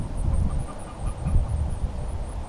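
Young, fully feathered chickens in a new netted garden run give soft, scattered clucks and chirps over a low outdoor rumble, close by and fairly quiet.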